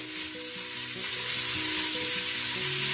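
Carrots with a little garlic hiss and sizzle as they stew in a pan for borscht, a steady close frying crackle growing slightly louder, with soft background music beneath.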